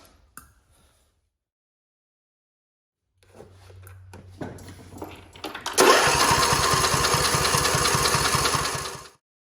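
A Briggs & Stratton Intek V-twin engine on a John Deere mower cranks for a compression test, a low starter hum building into loud, rapid, rhythmic chugging that runs steadily for a few seconds and then cuts off.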